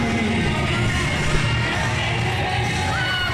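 A wrestling arena crowd reacts to a wrestler's ring entrance with a dense, steady roar of yelling and murmuring voices, loud and continuous without clear peaks.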